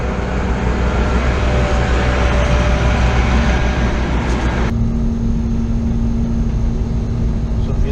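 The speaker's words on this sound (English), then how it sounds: "take you for a ride in the combine" A combine harvester's engine runs loud and steady from inside the cab during a ride, a dense continuous drone that abruptly shifts to a duller tone partway through.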